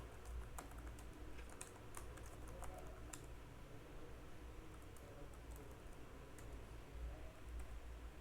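Computer keyboard typing in a product name, light scattered key clicks at close range over a steady low background hum.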